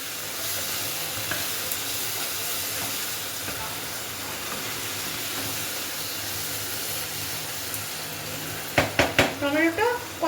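An onion and tomato puree masala for chicken sautés in a pan with a constant dense sizzle and hiss, then a few sharp clatters of a spoon against the pan near the end.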